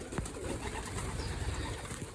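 Pigeons coo softly amid a dense, steady hiss of background noise after their bath, with occasional faint flutters and clicks.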